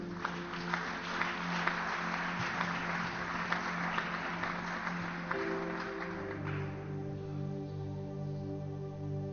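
A church congregation bursts into applause and acclaim, broad clapping filling the first six seconds before giving way to sustained organ or keyboard tones and singing voices.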